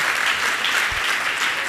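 Audience at a Jain religious discourse applauds, a dense and steady wash of many hands clapping, moderately loud and heard alone.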